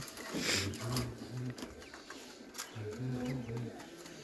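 Sirazi pigeons coo softly in two short bursts of low, throaty rolling calls, with faint background rustling and distant noise around them.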